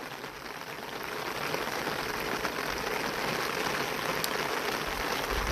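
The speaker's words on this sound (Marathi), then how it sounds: "एवढा भयानक पाऊस झाला आहे" Heavy rain pouring down on an onion farm during a multi-day downpour, a dense, steady hiss of drops beating on surfaces that swells slightly after the first second and holds constant, with no talking.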